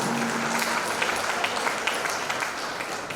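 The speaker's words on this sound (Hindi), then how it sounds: "एक बार जोरदार तालियां।" A seated audience breaks into steady applause at a Hindi book launch and inauguration ceremony, a dense, continuous wash of many hands clapping at fairly close range with no voices over it.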